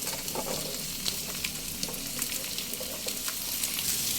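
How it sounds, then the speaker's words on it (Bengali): Continuous crackling sizzle of potato and pointed gourd frying in a pan over medium flame, close and steady, with occasional soft stirring clicks. "আলু আর পটল দিয়ে মিডিয়াম ফ্লেমে এক মিনিট একটু ভাজা করে নিয়েই"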